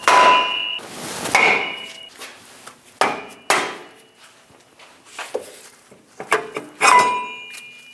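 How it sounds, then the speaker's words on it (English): Several loud metallic hammer blows on a brake rotor of a Chevrolet Express 2500 ring out at irregular intervals, freeing it from the hub, each sharp clang followed by a short ringing decay. "Using a hammer, we're going to break the rotor free from the hub."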